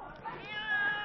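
A scared rescued cat gives a faint, drawn-out meow in a quiet indoor space, with a soft human voice heard briefly in the background.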